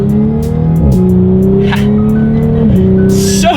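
A 2018 Audi S4 accelerates hard, its engine note climbing loudly, then dropping sharply with each quick paddle-shifted gear change, two shifts heard up close inside the car.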